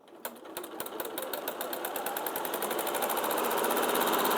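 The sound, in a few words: fast sewing machine stitching a bag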